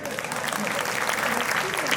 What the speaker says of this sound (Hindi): यहां तालियां बजनी थी,